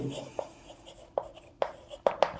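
Pen writing out a math solution on paper, heard as a few sharp, close scratching strokes spaced unevenly over soft background hiss, with no talk.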